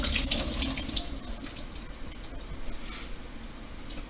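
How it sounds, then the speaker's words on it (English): Boiling pasta water poured out into a kitchen sink, a loud rushing splash at first that settles into a steady running-water hiss, heard alone without talk. "I'm going to drain that water out"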